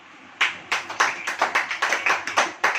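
A church congregation claps hands during a Hindi sermon, with about ten sharp, fairly close claps in a loose, steady beat and no talking.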